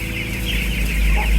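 Chickens on a small farm cluck close by, a short burst of throaty clucking and fowl chatter over a low rumbling background.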